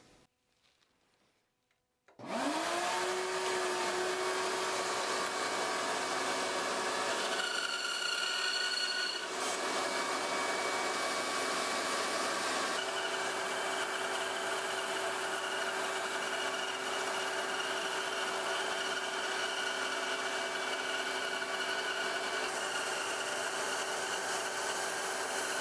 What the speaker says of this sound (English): I'm not sure how to fix the bandsaw drift.